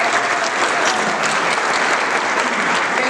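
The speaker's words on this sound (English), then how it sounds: "I'd like to give her a round of applause." Steady, loud applause from an audience at an outdoor memorial highway dedication ceremony, continuous dense clapping with no break, no voices standing out.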